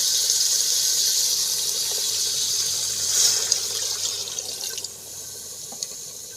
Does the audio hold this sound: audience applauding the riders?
no